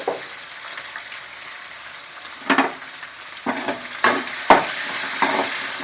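Finely chopped onions sizzle in a pan for aval kozhukattai. The steady frying hiss is broken by several sharp scraping bursts as a spoon stirs them, with no voices.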